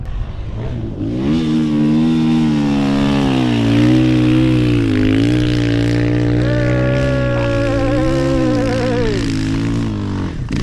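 An off-road vehicle climbs a sand dune, its engine droning loud and steady before revving higher with rising and falling pitch throughout.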